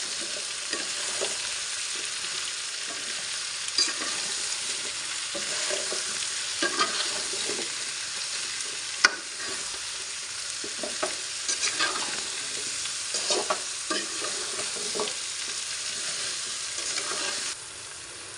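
Spiced mustard curry of black mustard paste, chili powder and salt sizzles loudly in a frying pan while a utensil stirs it, making repeated scraping strokes. The sound is close and continuous, then stops abruptly near the end.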